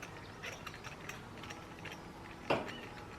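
A wrench loosens a spark plug on a BMW GS motorcycle, with a low mechanical ratcheting rattle throughout and a single sharp, louder crack at about two and a half seconds as the plug breaks free, close by.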